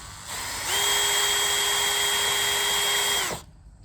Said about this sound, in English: Okay, so I'll drill these through.